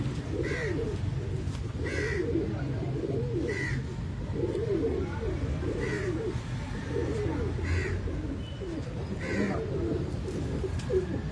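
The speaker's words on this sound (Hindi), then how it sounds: "अच्छा कबूतर है।" Pigeons coo repeatedly in soft, throaty rolling calls, several birds overlapping steadily against a low background hum.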